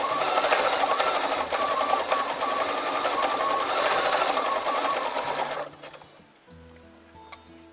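Bernina B880 sewing machine doing free-motion micro circles with the BSR stitch regulator, a steady close whirring stitch chatter that runs for several seconds, then cuts off to quieter room noise.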